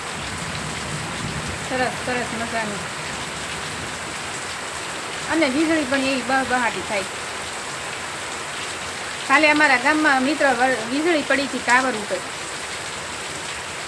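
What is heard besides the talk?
rain falling in a village farm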